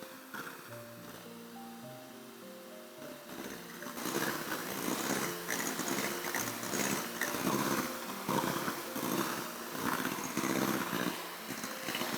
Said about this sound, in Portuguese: Com a batedeira ligada em velocidade média